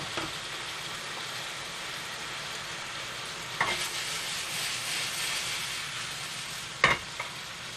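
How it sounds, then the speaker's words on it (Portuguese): Bacon (speck) browns in a pan, giving off a steady close sizzle and spatter of fat, with a couple of brief louder clatters partway through and no talking. "Nós estamos aqui a alourar bem o bacon, é também para ele largar a gordura"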